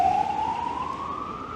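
An ambulance siren passes along a street in Varadero, Cuba, a loud, steady tone that slowly rises in pitch over a short stretch, close by and with no voices over it.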